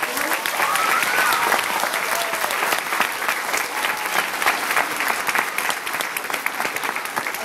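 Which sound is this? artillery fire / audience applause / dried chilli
audience applause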